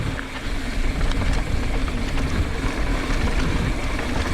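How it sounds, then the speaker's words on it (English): Heavy wind roar buffets the microphone while riding a 2019 YT Jeffsy CF Pro 29er mountain bike along a trail, a loud, constant rushing blast with no voices. "So much wind."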